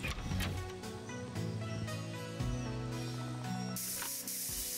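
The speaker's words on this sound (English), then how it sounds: "Just spray plaster on the outside." Plaster being sprayed onto an exterior house wall in the game Building Simulator, a steady hissing spray lasting throughout over a low mechanical hum, with a brighter burst of hiss near the end.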